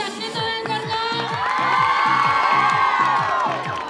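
A large crowd at a Los 40 Principales event in Alcorcón cheers and whoops over a pounding music beat, loud and sustained, with shouts rising in the middle.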